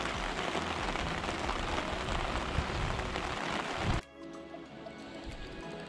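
Steady rain shower pattering on a surface at a fishing pond, loud and continuous, easing abruptly to lighter dripping near the end.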